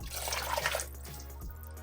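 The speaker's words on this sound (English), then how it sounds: "now I'm going to add some more water" Water is poured from a container into a pot of Jamaican gungo pea soup with peas already in it, giving a steady splashing pour for under a second that settles into a quieter low trickle.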